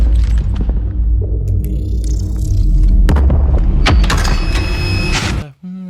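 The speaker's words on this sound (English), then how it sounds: "if that's the sound of the door moving" A heavy door moves in a film sound effect, a loud dense low rumble with booming sub hits and scraping mechanical texture that cuts off abruptly near the end.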